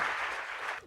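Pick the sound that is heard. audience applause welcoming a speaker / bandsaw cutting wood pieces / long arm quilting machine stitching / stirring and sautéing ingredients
audience applause welcoming a speaker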